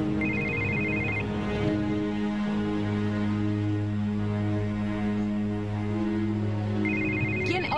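A mobile phone ringtone plays a steady electronic melody throughout, with a bright repeating beeping tone at the start and end.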